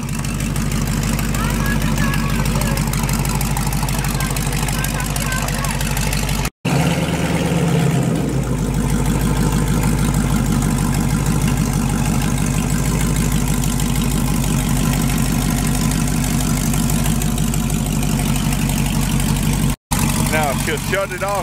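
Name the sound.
1957 Chevy engine idling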